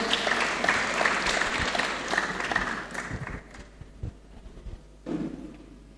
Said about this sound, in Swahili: Haya tuwapigie makofi mazuri hawa.